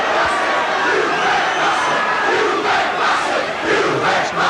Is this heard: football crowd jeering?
yes